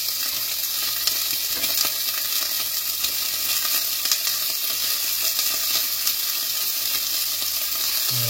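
Two lengths of sausage fry in a pan, giving a steady, close sizzle and crackle of hot fat with faint stirring, and no talking throughout.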